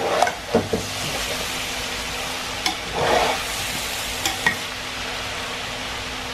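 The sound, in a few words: stir-frying rice in a pan for chicken fried rice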